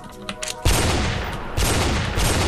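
Video-game gunfire in a streamed shooter: a brief quieter stretch, then a loud, dense fusillade of rapid shots that carries on to the end without a break.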